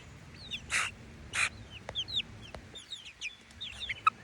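Chickens cluck and squawk nearby in short, uneven bursts, with a few sharper calls mixed among the softer clucking.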